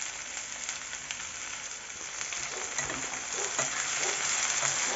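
Mango pieces and garlic fry in a pan for pickle, a continuous crackling sizzle with occasional scraping stirs that grows a little louder near the end.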